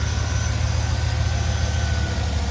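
A 2009 Chevrolet Tahoe 5.3L V8 fitted with an AirAid modular intake tube idles steadily up close, a low even rumble with no talking.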